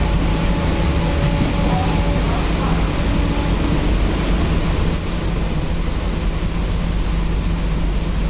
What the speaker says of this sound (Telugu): అవతల పక్కన అనేసి చెన్నై బీచ్కి వెళ్ళే ట్రైన్ అయితే ఓవర్టేక్ చేస్తుంది.